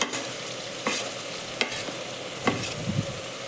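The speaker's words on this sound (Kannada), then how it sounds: "ಈಗ ರುಬ್ಬಿಟ್ಕೊಂಡಿರೋಂಥ ಹಸಿಮೆಣಸಿನ್ಕಾಯಿ, ಶುಂಠಿ, ಬೆಳ್ಳುಳ್ಳಿ, ಈರುಳ್ಳಿ ಪೇಸ್ಟ್ ಹಾಕ್ಕೊತಾ ಇದ್ದೀನಿ." Ground paste of green chili, ginger, garlic and onion frying in hot oil for a vegetable pulao, with a steady sizzle broken by several sharp stirring scrapes close by.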